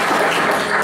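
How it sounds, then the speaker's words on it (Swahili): A crowd claps steadily in a hall at a radio station's birthday celebration, a brief dense wash of applause with no talk over it. "hema tupige makofi jamani"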